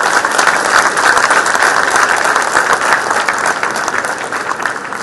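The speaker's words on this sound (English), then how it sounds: "a round of applause." Loud, sustained applause from an audience at a Symbiosis Law School event, after a short speech. Thick, continuous clapping holds strongly throughout with little variation.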